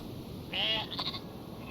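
A single short sheep bleat from the Northgard strategy game rises faintly above a low, steady game background, lasting under half a second before fading.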